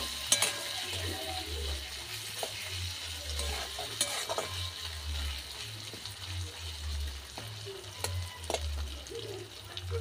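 Chopped tomatoes stirred into a frying spiced masala for a pangas and tengra fish curry, producing a steady soft sizzle with scraping and stirring clicks over a low, pulsing hum.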